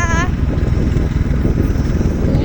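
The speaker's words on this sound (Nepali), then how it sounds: "बाइक चलाउँदै" A motorbike ridden along a village road in Gulmi, Nepal, a rumbling engine and heavy wind buffeting the microphone throughout, with a brief high whine at the very start.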